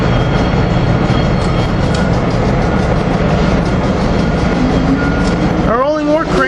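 A rolling work crane passes along the High Line rail line, a steady loud rumbling roar of wheels and engine throughout, with a brief squealing burst near the end.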